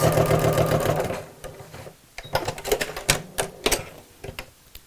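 A sewing machine stitches a test seam on fabric, a rapid mechanical chatter of needle strokes that starts and stops in short runs after a moment of louder background noise.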